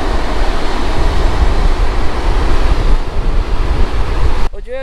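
Ocean waves break on the coast of Lincoln National Park in South Australia, a loud, continuous roar of surf with heavy wind buffeting the microphone.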